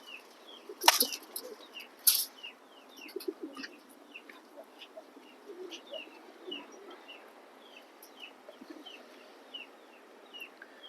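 Large racing pigeons, including a red checker hen, give soft repeated coos and chirps at close range, with a couple of sharp flapping or handling bursts near the start.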